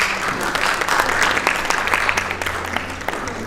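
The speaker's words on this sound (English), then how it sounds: "Please give a round of applause to these beautiful, lovely, inspiring women." Applause for women panelists as they come up on stage at a motherhood event, a few seconds of lively clapping with individual sharp claps standing out over faint crowd murmur.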